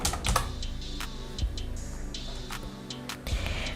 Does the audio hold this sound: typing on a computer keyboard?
yes